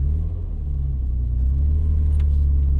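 Nissan Skyline GT-R R33 V Spec with a five-speed manual, idling with a steady, deep engine rumble close by, no talk.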